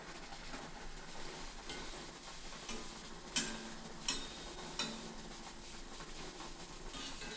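Sugar-sweetened puri dough frying in hot oil gives a soft, steady sizzle, with a few sharper clinks and scrapes from a utensil breaking through at intervals.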